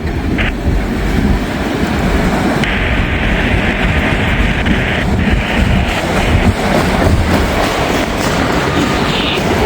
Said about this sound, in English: Now the end of the train is approaching the defect detector.